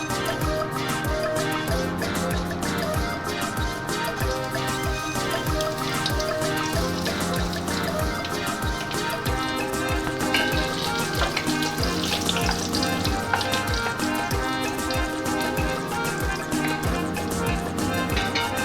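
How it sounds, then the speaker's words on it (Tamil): Dried red chillies fry in a generous amount of hot oil, making a loud, dense, unbroken crackling hiss that runs the whole time over a faint tonal background. "இப்போ நம்ம எண்ணெயில் முதல்ல வந்து காய்ந்த மிளகாயை போட போகிறோம்"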